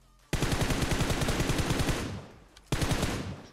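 A rapid burst of AKM rifle fire in the mobile game PUBG Mobile, a loud close full-auto stream lasting nearly two seconds, then a fading tail and a second burst starting.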